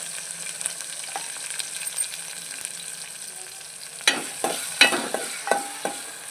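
Green chillies fry in oil in a pan, a soft, low sizzle punctuated later by several sharp pops and clinks of stirring, close and fairly quiet, no one speaking.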